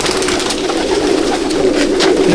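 Pigeons in a loft in Akra, Kolkata, coo continuously and loudly close by, with a dense, layered murmur of many birds and scattered brighter rustles throughout.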